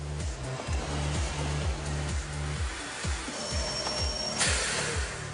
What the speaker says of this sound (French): vérifie le moteur de tous les aspirateurs qui sortent de l'usine